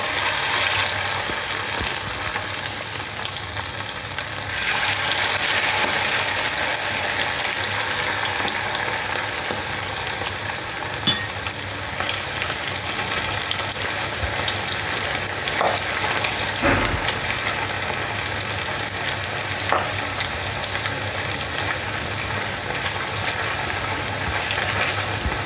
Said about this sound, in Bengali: দিয়ে চিকেনগুলো গরম তেলের মধ্যে দিয়ে ডিপ ফ্রাই করে নেব।